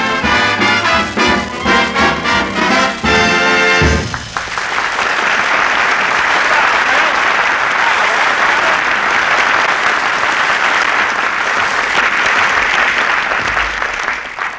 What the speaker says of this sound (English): He even puts applause on the record.